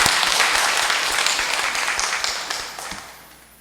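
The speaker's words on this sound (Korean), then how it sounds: "우리 아우스틴 구역장을 비롯해서 연동구역 회원님들께 감사의 박수 고맙겠습니다." A crowd applauds with dense clapping that gradually fades away toward the end, no talking over it.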